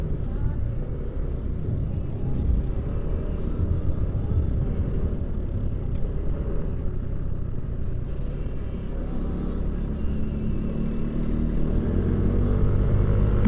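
Heavy road traffic beside a busy market in Pangasinan, a continuous low engine rumble of vehicles close by that swells slightly toward the end without letting up.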